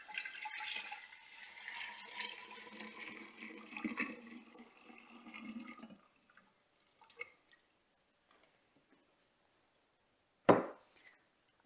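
Steeped, cooled tea for homemade kombucha pours from a jug into a large 4.5 to 5 litre vessel, a long steady watery splash that fades after about six seconds, followed by a few faint clinks and one sharp knock near the end.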